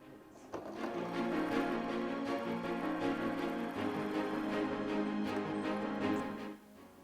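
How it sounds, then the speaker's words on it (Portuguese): Sewing machine stitching fabric along a marked line while piecing a pink quilted patchwork blanket, a steady continuous motor hum running for about six seconds at moderate level, with no talking. "Eu vou alfinetar e vou costurar neste risco"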